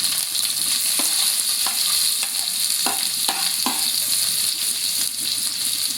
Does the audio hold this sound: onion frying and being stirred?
yes